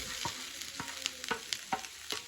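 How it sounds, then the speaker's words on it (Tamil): Ingredients for coconut rice roasting in coconut oil, a steady soft sizzle broken by regular scraping stirs of a spoon in the pan, close by and with no talk. "எல்லாத்தையும் நல்லா தேங்காய் எண்ணெயில் ரோஸ்ட் பண்ணிக்கோங்க"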